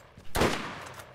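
A single sharp gunshot in the PC video game Borderlands, a sudden loud crack with a short decaying tail, heard alone.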